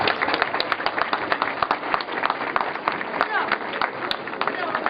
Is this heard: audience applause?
yes